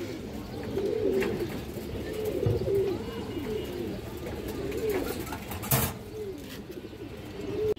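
Female pigeons at a pigeon sale coo repeatedly, low throaty rolling calls close by, with a few faint clatters in the background.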